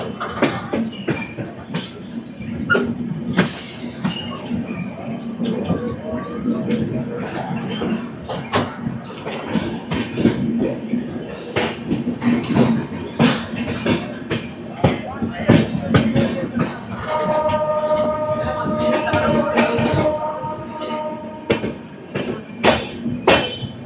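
Howrah–New Delhi Duronto Express running through Ghaziabad Junction, heard from on board: continuous rolling rumble with rhythmic wheel clacks, a brief tonal horn or whistle near the end, and a voice talking over it.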